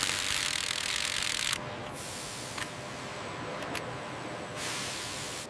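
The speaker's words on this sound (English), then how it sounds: "Bolts being torqued securely." Power tools tighten bolts on the Porsche 911 assembly line for the 2025 model, a loud continuous whirring ratchet for the first second and a half, then a quieter mechanical factory hum with brief clicks.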